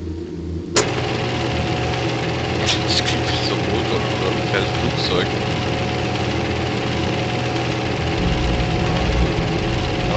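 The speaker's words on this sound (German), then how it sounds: "Das klingt wie so ein Motor oder ein Flugzeug." A steady mechanical engine drone in the game Thief hums continuously and fairly loud, with a sudden onset near the start and a few faint clicks over it.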